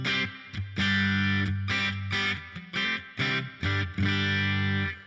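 Electric guitar played through a Fractal amp modeler with spring reverb placed before the amp, heard alone as sustained distorted chords with several short breaks and re-struck notes, loud and close.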